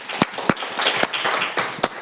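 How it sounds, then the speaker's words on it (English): Scattered clapping from a small audience at a fashion workshop and panel event, a steady patter of hands with a few sharper individual claps standing out, moderately close, without talk. "a round of applause for Caryn"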